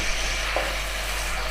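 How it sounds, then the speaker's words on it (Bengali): Ginger and garlic sizzling in hot oil for a cauliflower korma, a steady close frying hiss with a brief stir partway through. "1 চামচ আদা আছে, 1 চামচ রসুন আছে, তেলে দিয়ে দিলাম"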